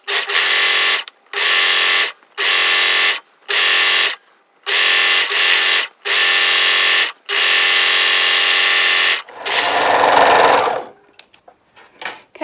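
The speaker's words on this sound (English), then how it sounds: "we're just going to overlock on the right side the whole way around" An overlocker runs in rapid bursts while stitching around the edge of dress fabric. The stops and starts come in an uneven rhythm, and the motor whirs close and loud before a final rustle of handling.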